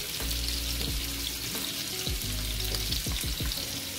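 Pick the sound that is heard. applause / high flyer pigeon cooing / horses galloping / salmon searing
salmon searing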